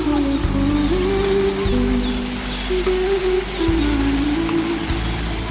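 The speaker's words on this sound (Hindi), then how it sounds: "पूरे शहर में बारिश एक साथ" Steady rain falling across a whole city, a dense even hiss that continues throughout, with a low tonal hum and traffic-like drone underneath.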